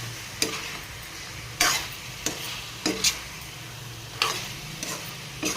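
Chicken pieces frying with onions in a hot pan, a steady soft sizzle broken by several sharp stirring scrapes and clicks at uneven intervals, close and alone with no talk.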